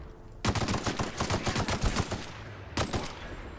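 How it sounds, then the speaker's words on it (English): Rapid bursts of weapon fire from a grenade launcher in a video game, a fast run of loud explosive thumps followed by a brief pause and one more burst. "Watch where you throw that grenade launcher!"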